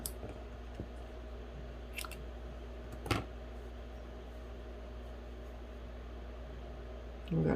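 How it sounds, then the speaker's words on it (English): Scissors snip through ribbon during a craft project making faux caramel and candied apples: two brief, crisp cuts over a steady low room hum, close by, with no talking. "I'm going to cut it about, let's see, cut it about yay long."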